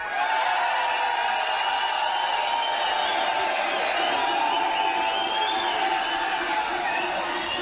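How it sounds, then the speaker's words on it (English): A big, rowdy crowd at Camacho's on Cinco de Mayo roars and cheers continuously, a loud, dense wall of voices and whoops with no break. "We got a very big crowd, and they're very loud. Show everybody how loud you guys can be."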